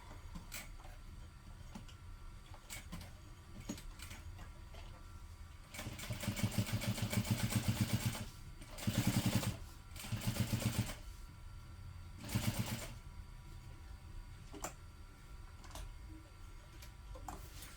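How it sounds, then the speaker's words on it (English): A sewing machine stitches and back stitches a seam in several short runs, rapid mechanical whirring bursts of a second or two separated by pauses with light clicks, close and fairly quiet. "I'm going to place a couple stitches and then back stitch a couple stitches"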